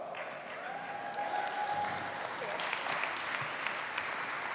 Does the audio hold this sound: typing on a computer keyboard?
no